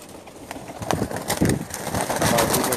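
Pigeons cooing in a rooftop loft in Jeddah, a busy chorus of coos and wing flutters mixed with scattered knocks and handling noises, fairly close and loud.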